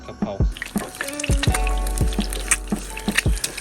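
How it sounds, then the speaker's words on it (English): An egg frying sunny side up in plenty of hot oil for a Thai basil chicken topping, with a continuous sizzle punctuated by sharp pops and crackles throughout, close and fairly loud. "we're literally gonna fry the egg"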